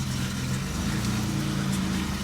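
A BMW car engine idling in a project car under restoration, a steady mid-pitched running hum with low rumble, close and constant, with no talking.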